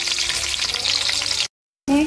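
Onion and garlic browning in a hot pan, giving a steady close hiss and crackle of frying for over a second, then a brief silence before the sound resumes.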